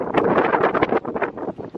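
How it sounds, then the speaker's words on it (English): Loud gusty wind buffeting an outdoor microphone at an alpaca farm, a continuous rumbling roar with fluttering bursts and no voices. "Sorry about the wind, guys."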